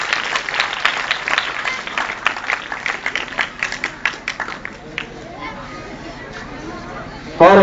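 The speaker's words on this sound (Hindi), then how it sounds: "आप भी ताली बजाकर खुशी का इजहार कीजिए।" A school Teachers' Day program at an Urdu high school, where the audience claps in uneven bursts under crowd chatter, the clapping thinning out midway and giving way to murmuring voices.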